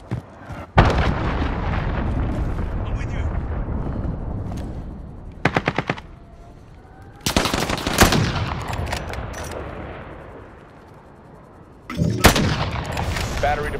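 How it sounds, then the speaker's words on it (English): Heavy machine-gun bursts and booming explosions from incoming cruise missiles in Call of Duty: Modern Warfare ring out loud and close, several sharp blasts separated by rattling gunfire and rumbling lulls. "Enemy cruise missile incoming!"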